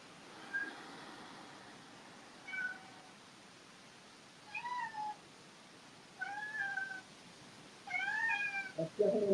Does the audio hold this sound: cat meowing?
yes